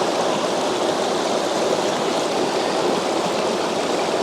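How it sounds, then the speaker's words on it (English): Water pours steadily down a Yorkshire waterfall, a dense, close, unbroken rushing roar that fills the whole stretch with no voices. "I do apologise if the water is really noisy."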